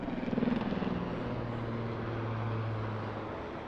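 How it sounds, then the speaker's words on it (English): A Swiss Air Force Super Puma helicopter performs a slow pedal turn at an airshow, its low steady rotor drone and throbbing beat heard at a distance, fairly faint and unbroken. "And there we see a slow pedal turn being performed, and the aircraft will then climb at a nose-high attitude."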